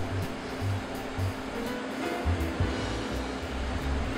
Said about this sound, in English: Tap weld time.